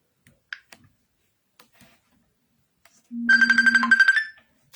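A phone rings with an incoming call, a loud electronic ringtone in short repeated pulses over a steady low tone, starting partway through after a few faint clicks and lasting about a second before stopping.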